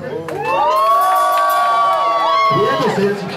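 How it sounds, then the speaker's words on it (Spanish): A lively crowd at an evening dance show cheers and whoops loudly for a contestant. The noise holds steady for about three seconds, then a voice cuts in near the end. "El aplauso y el chiquito para Celsi."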